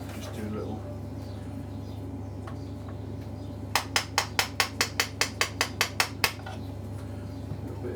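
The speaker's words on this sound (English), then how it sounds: "Bit of gentle hammering." Gentle hammering drives a pin out of a Tokyo Marui SCAR-L airsoft rifle during takedown: about a dozen light, evenly spaced metallic taps in a quick steady run, close by over a low hum.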